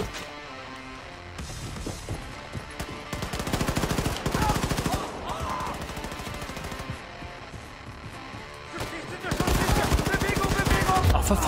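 Loud bursts of automatic gunfire in the video game Wolfenstein 2 The New Colossus, with rapid machine-gun rattles coming in several long volleys separated by brief quieter gaps in the game action.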